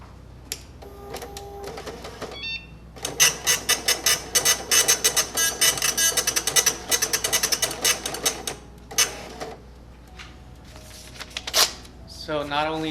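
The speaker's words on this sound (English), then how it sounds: "I'll print on the impact first" An impact receipt printer for a POS system prints a receipt with loud, rapid mechanical chattering in dense bursts, pausing between lines, with a few separate clicks and whirs before and after.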